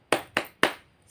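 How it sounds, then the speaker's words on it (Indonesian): Three sharp claps in an even rhythm, crisp and close, from a third-grade class doing a rhythmic clapping chant. "kita melakukan tepuk semangat terlebih dahulu bersama-sama ya"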